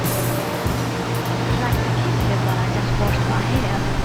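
Steady hissing spray of water onto a ceramic-coated Rays Gram Lights 57CR wheel on a Subaru STI, with a low constant hum underneath, continuous and fairly loud throughout.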